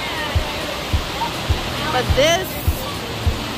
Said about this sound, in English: waterfall right here is just beautiful.